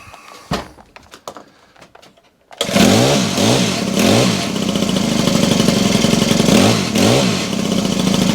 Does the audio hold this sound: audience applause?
no